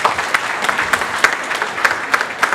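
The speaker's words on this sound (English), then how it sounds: "Please welcome her with a big round of applause." Guests at an Aligarh Alumni Association dinner in New York give a loud, warm round of applause to welcome a senator to the stage, dense clapping sustained throughout with sharper individual claps standing out.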